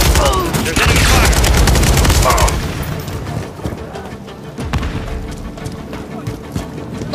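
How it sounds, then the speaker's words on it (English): Dense bursts of automatic gunfire from enemies in a Call of Duty battle ring out loud and close at first, then thin to scattered shots and distant pops under game ambience. "There's enemy fire!"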